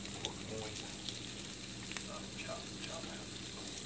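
Pork chop frying in a pan, a quiet, steady sizzle with faint crackles and spits, low and fairly distant, with no one talking.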